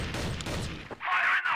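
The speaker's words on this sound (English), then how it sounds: "Gunshots are going to be fired down across middle." Gunfire in a tactical shooter video game during a CrossFire esports tournament match, a quick burst of shots followed by a sharp bright crack, close and loud.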